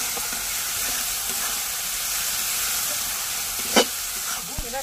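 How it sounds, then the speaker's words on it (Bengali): Two bay leaves sizzle steadily in hot oil while being stirred, with a constant frying hiss, soft scraping strokes and one sharper clink of the spoon near the end, no voices. "সঙ্গে 2টো তেজপাতা দিয়ে দেবো।"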